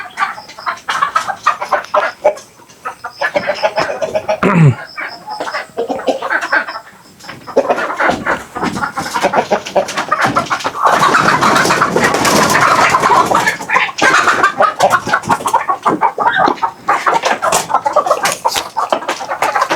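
Native chickens cluck steadily around a farmyard, with the calls overlapping and rising to a busy peak midway through before settling back to scattered clucks.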